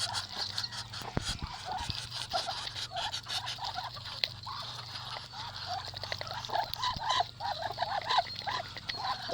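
Male ducks quacking on a duck farm, a busy chorus of repeated calls close by, with other farmyard noise and a steady low hum underneath.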